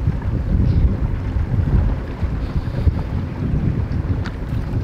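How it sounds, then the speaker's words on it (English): Steady wind outdoors on a lake in the northern Ontario wilderness, a constant low rumble buffeting the microphone, with faint water sounds beneath it and no talking. "It's a little windy here today."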